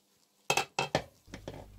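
A utensil clanks and knocks against a cooking pot of curly kale as it is stirred, with a few sharp, close clinks followed by softer scraping taps.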